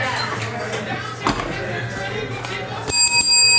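A small bell is rung briefly near the end of a baseball card box break, a bright ringing strike that follows lively talk and crinkling noises.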